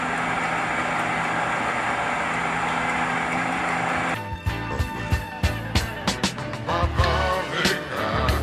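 Off-road vehicle in GTA V, a steady engine roar that abruptly gives way to a string of hard thuds, bangs and rattles as it crashes into a rock and bounces on its suspension.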